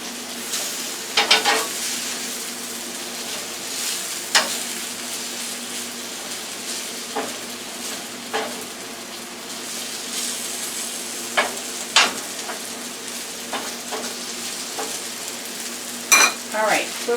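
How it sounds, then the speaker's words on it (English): Onions and hash browns being stirred together on a new grill give a steady, even sizzle throughout, broken by scattered sharp scrapes and clicks of a utensil against the cooking surface. "let's mix the onions with the hash browns"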